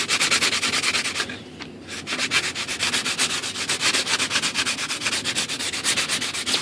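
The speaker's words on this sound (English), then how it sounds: "just sand over it a little bit, smooth off any of that CA" Cured CA glue is sanded smooth on a composite ASH26 sailplane, the close rhythmic back-and-forth strokes rasping steadily throughout with only a brief pause.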